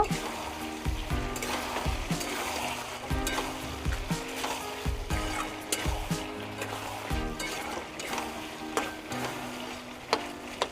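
Bengali-style chicken curry with homemade garam masala and meat masala fries in a pan while being stirred. Steady sizzling runs under repeated scraping spoon strokes that come in an uneven rhythm. No voices.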